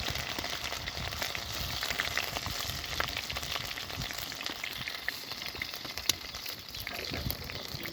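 Ginger paste fries with golden-browned onions in a pan for Punjabi sarson ka saag, giving a steady, close crackling sizzle with scattered pops and stirring clicks throughout. It stays fairly quiet and is heard alone.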